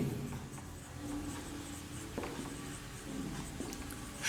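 Pen or chalk writing steadily through a chemistry lesson, a soft faint scratching with small strokes and pauses, alone with no talk.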